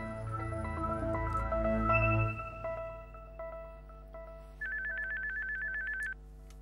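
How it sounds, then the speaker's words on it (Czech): A telephone rings in a home with a repeated electronic ringtone pattern, loud and close, starting after a stretch of background music that fades down. "telefon!"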